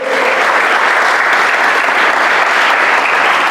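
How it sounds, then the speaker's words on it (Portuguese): Loud, sustained applause from a church congregation, a dense continuous wash of many hands clapping together with no pauses and no talking over it. "Dá um aplauso a ele aí, pelo amor de Deus."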